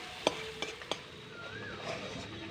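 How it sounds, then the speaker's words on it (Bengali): Masala spice paste frying in a pan while being stirred, with a soft steady sizzle broken by three sharp clinks of the utensil against the pan and a faint whistle-like tone in the background. "মশলাটাকে বেশ ভালো করে কষিয়ে নেব।"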